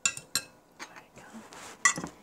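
A utensil mixes spaghetti squash with sauce and meatballs in a dish, giving a run of close, light clinks and scrapes at an irregular pace, with a sharper tap near the end.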